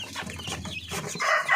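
Twenty-day-old native chicks, pure Paraoakan and upgraded native stock, give a quick burst of close clucking peeps lasting barely two seconds.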